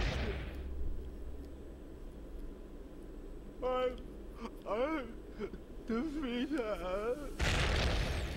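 Cartoonish bomb blasts from the video game Bomberman Generation: a burst at the start and a louder, wide crash near the end, with someone talking over the game sounds in between.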